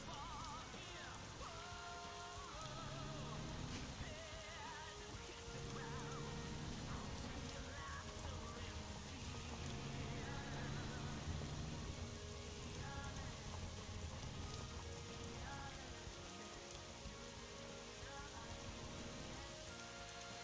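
Steady rain patters across the scene in American Truck Simulator, with game music and tones layered over the continuous downpour.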